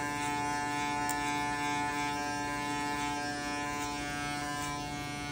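Electric hair clipper with a 1.5 guard comb cutting afro hair for a fade, giving a steady, close mechanical buzz that holds at an even level throughout with no talking.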